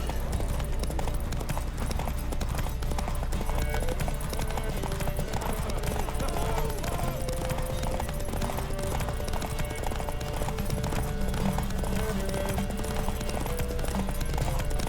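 Horse hooves galloping in The Witcher 3 video game, a steady rhythmic clip-clop held throughout at even loudness, with game music and ambience underneath and an occasional whinny.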